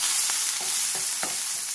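Chopped large onion hitting hot oil in a cast iron pan, a steady close sizzle with a few soft scraping stirs on top, no voices.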